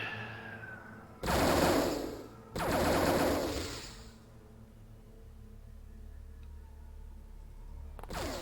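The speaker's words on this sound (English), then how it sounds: "A Tommy gun." Bursts of Tommy gun fire in the X-Com Files video game, set in a desert mission: two dense, loud rattling volleys about a second each, back to back, then a fading tail and near quiet.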